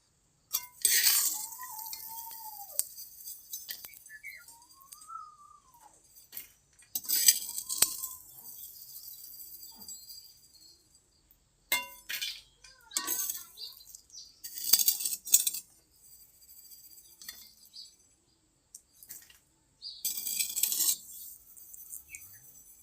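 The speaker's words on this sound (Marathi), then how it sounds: "किती खळखळ वाजत आहे बघू शकता" Roasted salted peanuts rattle and clink as they are handled on a plate, with several intermittent bursts of crisp, dry clattering separated by quiet pauses over about twenty seconds.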